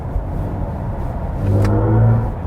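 A BMW i5 M60 Touring electric car plays its synthetic drive sound in personal mode, a low whirring rumble that rises and swells as it accelerates, with a tonal hum in the middle of the run, heard from inside the cabin.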